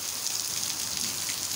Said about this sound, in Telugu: చూడండి వర్షం చూడండి ఒకసారి ఎంత పడుతుంది